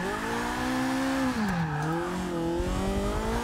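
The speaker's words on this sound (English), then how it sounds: "I'm gonna tap the e-brake and try to go sideways." Engine note of a front-wheel-drive car in Forza 6, rising and falling in pitch as the handbrake is pulled and the car slides sideways, steady and loud throughout with no voices.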